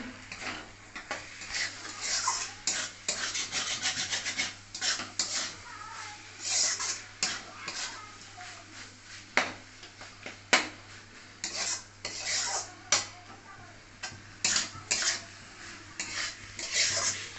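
Dried fish paturi is stirred in a pan, giving a run of close, irregular scraping and clinking of a utensil against metal. The bursts come quickly one after another and carry no speech.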